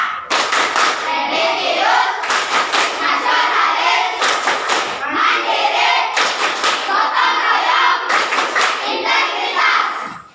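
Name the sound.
class doing the BPK rhythmic clapping chant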